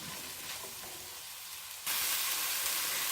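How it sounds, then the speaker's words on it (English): Onions frying and being stirred in a pan on medium-high heat, a steady broadband sizzle heard close that gets louder and brighter partway through, with no talking. "I'm going to stir this around until the onions start to brown a little bit"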